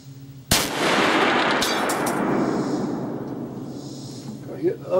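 A single sharp rifle shot from a smokeless muzzleloader fired at about Mach 3 cracks loudly up close, followed by a long rolling echo that slowly fades over several seconds.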